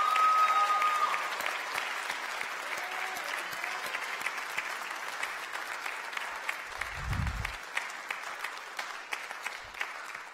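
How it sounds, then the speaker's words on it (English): A room of people applauds the officers and seniors of an honor society chapter, with dense, continuous clapping that starts strong and slowly thins while a low thump briefly sounds partway through. "Let's give the officers and our seniors a round of applause."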